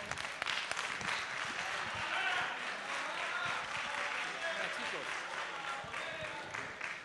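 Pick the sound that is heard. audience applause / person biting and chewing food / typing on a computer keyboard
audience applause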